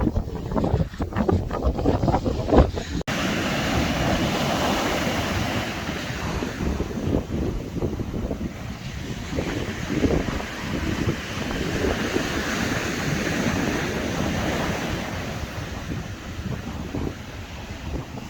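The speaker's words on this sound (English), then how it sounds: "Relaxing sounds of the sea." Sea waves break and roll onto a Scottish beach below a sand dune while strong wind buffets the microphone, a loud continuous roar of surf and gusts with no voices.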